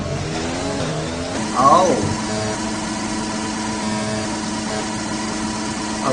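A Formula 1 car in the racing game F1 2020 holds a steady high-revving engine drone throughout, with a brief louder surge of rising pitch early on, while a voice speaks briefly over it.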